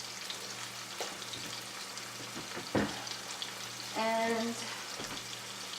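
Pork medallions fry in a pan that keeps moving, giving a steady, low sizzle. A brief clatter and a scraping stir come through, and a voice speaks faintly over it.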